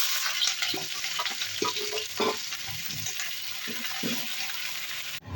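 Bay leaf and chopped onion fry in hot oil left from frying potatoes, giving a steady sizzling hiss with soft stirring knocks and scrapes, close and continuous.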